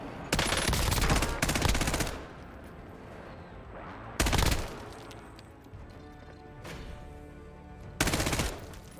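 Automatic gunfire from the strongest gun in Warzone, loud and close, in three separate bursts, each lasting about a second, with a rumbling game ambience in between.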